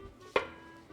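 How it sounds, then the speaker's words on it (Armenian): A knife cuts a lemon into a thin slice with one crisp, close chop on a board, then quiet kitchen background. "Այսպես կտրատում ենք բարակ շերտով կիտրոնը"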